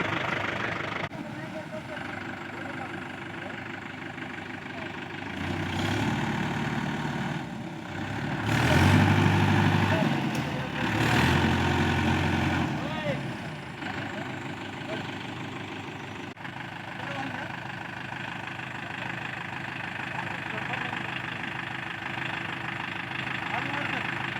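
A tractor stuck in mud runs with a steady low idle, surging louder for a few seconds in the middle before settling back to a constant drone, with people talking over it.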